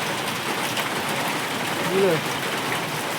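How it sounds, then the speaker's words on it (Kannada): Heavy rain with big drops falls at night on a stranded motorbike ride, a steady, dense hiss throughout with one brief voice speaking over it. "ನೋಡ್ರಿ ಇದು ಮಳೆ ನೋಡ್ರಿ"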